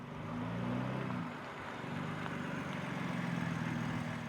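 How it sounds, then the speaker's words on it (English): A BMW X4 M Competition's 3-liter inline six-cylinder with a sports exhaust, its steady, close exhaust note holding a low rumble with a slight swell near the start and no talk over it. "and then the sports exhaust."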